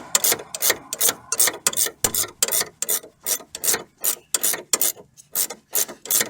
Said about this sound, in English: So I've got my ratchet spanner, and it's a 19mm. Let's just get that tightened up.